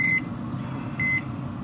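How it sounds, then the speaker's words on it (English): Two short electronic timer beeps, about a second apart, from a pellet smoker during a pulled pork cook, sounding over a steady low hum of fan and fire. "Shut that timer off."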